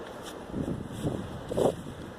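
Steady low wind buffeting, rumbling in gusts with a rushing, blustery quality and no voices.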